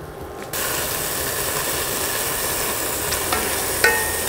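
Half a batch of pork pieces browns in a hot pot for chile verde, giving a steady, close, even frying hiss that starts abruptly and runs on with faint clicks, with no talk.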